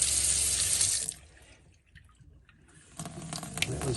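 Water runs from a filtered drinking water tap fitted in a Jayco caravan, a strong steady gush that drops away briefly in the middle and then starts flowing again, close and clear with no talk.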